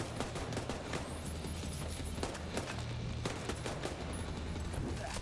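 Gunfire in the video game The Division 2: dense, continuous bursts of shots and scattered impacts fill the scene steadily, loud and busy, over a low droning music bed.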